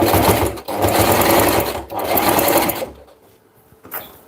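Domestic sewing machine stitching steadily near the end of a seam in a home crafting setup, loud and continuous for about three seconds with a brief pause, then stopping into quiet room noise.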